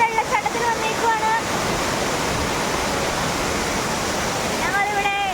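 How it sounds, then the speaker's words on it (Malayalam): Rushing water at Areekkal waterfall, a continuous loud broadband roar filling the whole stretch, with faint voices briefly audible at the start and end. "ഞങ്ങളിവിടെ അരീക്കൽ വെള്ളച്ചാട്ടത്തിൽ വന്നേക്കുവാണ്."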